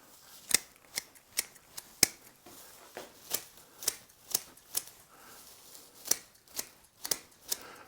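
Pruning shears snipping bonsai branches in a hedge-pruning style, a steady series of about a dozen crisp, close cuts spaced roughly half a second apart with nothing else heard.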